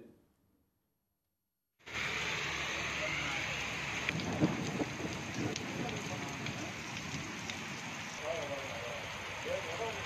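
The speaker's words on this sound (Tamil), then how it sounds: "இரண்டு மணி நேரத்துக்கு மேலாக கனமழை பெய்ததால் குளிர்ச்சியான சூழல் நிலவியது" Heavy rain pours steadily over a hill area along the Western Ghats, a loud, dense and unbroken hiss that starts abruptly after a short silence and holds at a constant level, with no voices.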